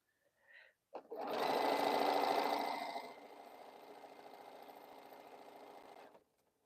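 A home sewing machine stitches two quilt segments together in one continuous run, loud at first, then settling to a steadier, softer whir before stopping.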